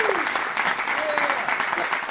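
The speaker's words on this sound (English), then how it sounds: "let's give them a big Black Westchester round of applause." A Westchester community audience claps in a brief, steady round of applause at a public health and justice meeting, with some overlapping voices and a tonal sound running under the clapping.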